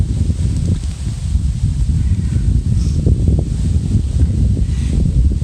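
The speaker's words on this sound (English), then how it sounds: "We do have quite a bit of wind. It's always windy here." Steady wind rumbles and buffets a microphone throughout, a dense low roar with faint rustling and no talk.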